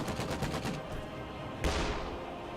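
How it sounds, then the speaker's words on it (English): Infantry support gun bombarding a factory in a war game: a rattle of rapid gunfire gives way to one heavy booming blast that rolls off, loud and close, with no voices. "Infantry support gun bombardment of the factory here will force that 50 cal out quite soon"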